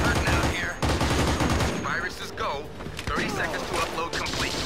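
Rapid gunfire and bursts of automatic weapons in the console shooter Battlefield 2: Modern Combat, dense and loud throughout, with a player's excited voice breaking in over the shots.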